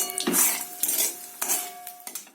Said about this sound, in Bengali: আর একটু সাদা জিরে দিয়ে একটু তেলের উপর নাড়াচাড়া করবো